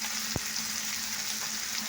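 Potatoes with salt fry in a pan, a soft, steady sizzle that runs quietly throughout, broken once by a brief sharp tap early on.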